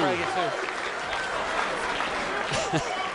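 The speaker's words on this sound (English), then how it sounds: "They're not booing. They're chanting 2." A bowling crowd chants and cheers in a dense, sustained roar during a tense frame, with an announcer's voice partly audible over the noise.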